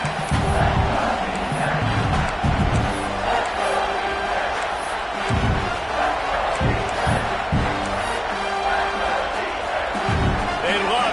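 Stadium crowd in a College Football 25 video game roaring and chanting loudly, a dense wall of cheering with rhythmic thumps and surges, while a commentator talks over it.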